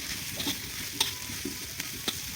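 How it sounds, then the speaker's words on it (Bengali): Food fries in mustard oil with a steady close sizzle, punctuated by several sharp scraping clinks as a utensil stirs the pan. "সরষের তেল দিয়ে রান্নাটা করছি"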